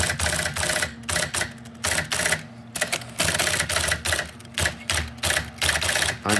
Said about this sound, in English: I'm just randomly pressing keys, but you hear that?